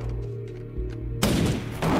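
Gunfire in an action movie scene: a low rumbling soundtrack gives way to a loud burst of rapid shots and crackling impacts in the second half.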